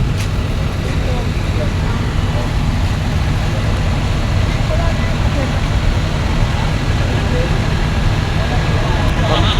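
Dense, steady roadway rumble of bumper-to-bumper traffic near a fire scene in Valenzuela, Malabon, with engines idling and a fire truck somewhere in the queue, holding at a constant level throughout with faint voices mixed in.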